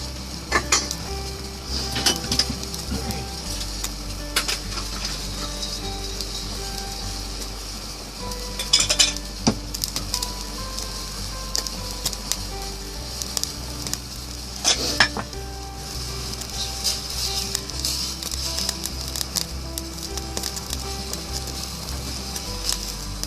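Steady bubbling and sizzling from a pot of water boiling on the stove, with occasional utensil clinks and stirring sounds, close and continuous throughout.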